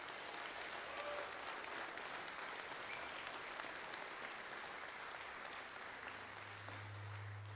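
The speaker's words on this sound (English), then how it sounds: "So if you'd give him another round of applause," Sustained audience applause fills a political rally hall, dense and steady throughout, with a low hum entering near the end.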